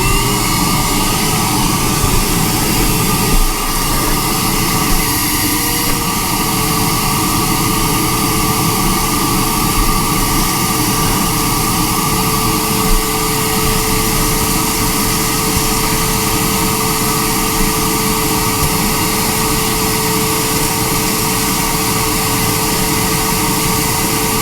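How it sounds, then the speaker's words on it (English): A vacuum cleaner runs nonstop while cleaning out a vehicle, producing a loud, steady whine and rush that stays even for the full length, with small bumps as the nozzle moves and no talk. "clean up some of this hardware and start vacuuming away"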